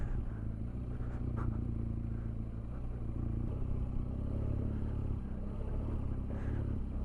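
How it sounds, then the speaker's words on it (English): A BMW R1200GS motorcycle spins its wheel on smooth sand on an off-road track. A steady, close engine drone carries faint scraping and clatter, and no one speaks. "Oh yes, wheel spin."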